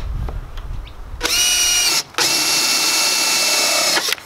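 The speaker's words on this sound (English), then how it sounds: "just drill straight through" A power drill whines at high speed drilling through a jet ski hull, pausing briefly before running again steadily, with a faint knock and low rumble before it starts.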